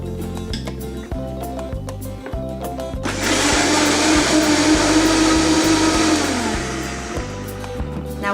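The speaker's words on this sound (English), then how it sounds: "I will start with blending the salsa because this will go on top of the Huevos Rancheros" A countertop blender purees salsa for huevos rancheros, its loud motor roaring up mid-clip for a few seconds and then winding down, with rhythmic background music throughout and no talk.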